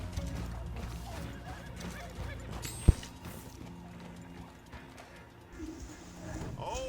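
A horse in a video game whinnies amid steady clip-clopping hooves and background game noise, with one sharp click partway through, moderately loud and unaccompanied by talk.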